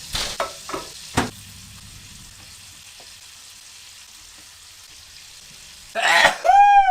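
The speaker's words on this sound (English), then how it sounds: "bacon don't really cook good until it has grease in the pan" Bacon fries in grease in a pan with a faint, steady sizzling hiss. A few throat-clearing coughs and short thumps come near the start, and a brief whistling squeal rises at the end.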